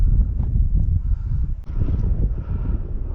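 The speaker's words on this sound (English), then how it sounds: "Now the wind is at my back." Wind gusting across open ice at an ice fishing hole, a low rumbling buffet against the microphone that surges and dips unevenly throughout, with no speech.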